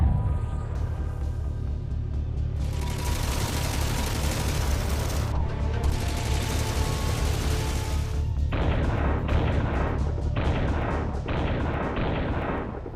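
Dhanush artillery gun firing rounds, heard as sustained loud booming and roaring blasts, with dense broadband bursts in the middle and a choppy series of sharp reports toward the end, with no talking.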